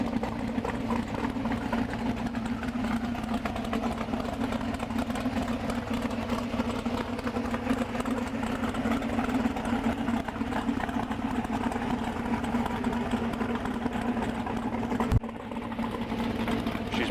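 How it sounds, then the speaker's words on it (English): A 1975 Ford F-350 4x4 with a 521 stroker V8 idles at 900 RPM, giving a steady, close, lumpy rumble that continues unbroken with one brief bump near the end. "Here's a 900 RPM idle."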